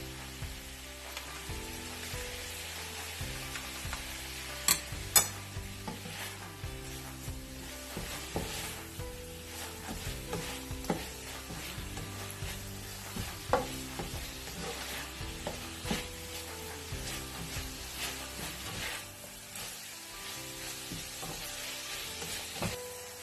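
Green beans and tofu stir-fry in a pan, with steady sizzling and the scrape of stirring, plus a few sharper clinks, over soft background music.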